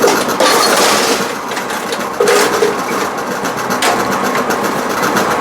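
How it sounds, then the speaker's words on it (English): A Brunswick bowling pinsetter gearbox runs a standing pin cycle, a loud close mechanical whir with rattling and periodic clunks as the parts cycle, with no talking. "I'll run it through a first ball cycle here, and you can watch how it works here. It's a standing pin cycle."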